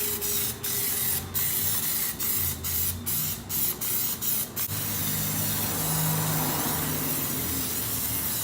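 Plasti Dip coating hisses from a spray can onto a car rim in a series of short, close bursts, then settles into one long continuous spray; no voices.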